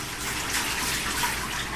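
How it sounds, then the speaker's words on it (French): Running water rinsing a person during an assisted bath, a steady broadband wash of flowing water from a tap or shower that stays even and close throughout, with no talk. "je vais laisser rincer en arrière"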